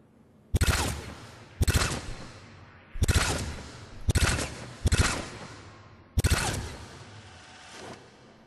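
Hornet gun from Mass Effect 3 fired in six short bursts, each a rapid crackling volley of shots with a brief decaying tail, spaced about a second apart, sharp and close with no talking.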